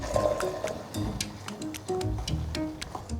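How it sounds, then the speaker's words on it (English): Stock being poured into a veal and ham pie, a soft liquid trickle with light drips and small ticks, close and fairly quiet, lasting a few seconds without talk. "So I'm just gonna pour our stock right in."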